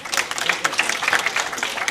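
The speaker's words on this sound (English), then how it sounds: "a round of applause to Miss Farhana Alarakia from Aga Khan University Chief Data Innovation Officer" An audience at a data conference session claps for a speaker from Aga Khan University, giving a brief, fairly loud burst of scattered hand claps with crowd murmur mixed in.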